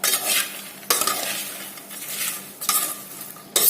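Corn popcorn is stirred and sautéed in a pan over low heat, with a soft, steady sizzle broken by several sharp scraping strokes of the spoon, close and without talk.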